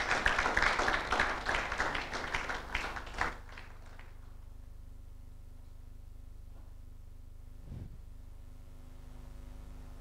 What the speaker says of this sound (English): please clap for him while he makes his way to the stage